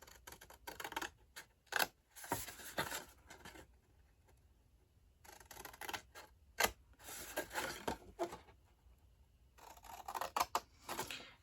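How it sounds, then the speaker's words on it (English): Scissors snip through paper along the score lines of a gift box in quick clusters of crisp cuts, separated by short quiet pauses, close and soft with no talking. "we are going to cut up, straight up these score lines"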